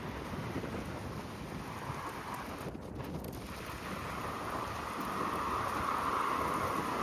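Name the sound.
rain and thunder while hiking outdoors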